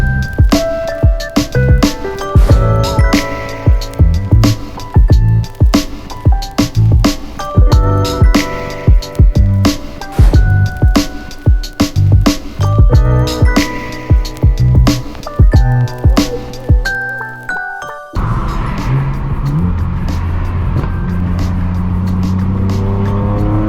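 A BMW M4 F82 with a straight-pipe exhaust roars through Los Angeles streets, loud and close, with rapid revs, shifts and crackling pops and bangs. Near the end the engine settles into a steady drone.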